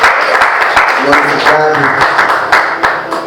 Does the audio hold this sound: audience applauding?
yes